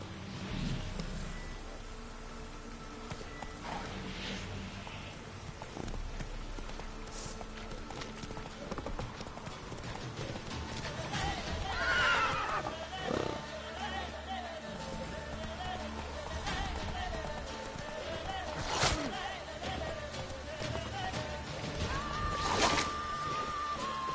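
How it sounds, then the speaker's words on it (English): Horse hooves clip-clopping steadily at a gallop in The Witcher 3 game, a continuous rhythmic drumming with a brief neigh partway through, under a soft ambient background. "Whoa there, Roach"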